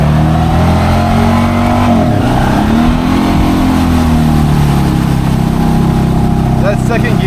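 An off-road vehicle fitted with a P500 locker and reduction revs hard while mudding through a deep clay swamp, a loud, close engine drone rising and falling in pitch, with a voice talking over it.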